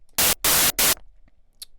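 A synthesizer noise oscillator plays white noise in three loud, abrupt bursts of harsh static, each cut off sharply, followed by near silence with a few faint ticks.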